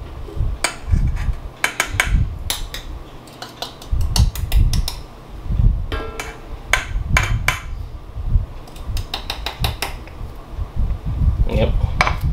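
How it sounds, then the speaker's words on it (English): Scoops of fine ground coffee going into an espresso maker, with sharp metallic clinks, taps and scrapes of the scoop against the metal basket, close and loud, in irregular clusters. "So you put a couple scoops in here."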